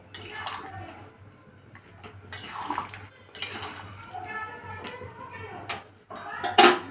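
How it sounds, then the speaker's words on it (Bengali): Potatoes being stirred in a cooking pot, with scattered metallic scrapes and clinks of a spoon against the pot, irregular and fairly close, with some quieter gaps and a sharper clatter near the end. "এবার আলুটা দিয়ে দিচ্ছি, দিয়ে এর সাথে এটা একটু ভালোভাবে নেড়ে দিচ্ছি"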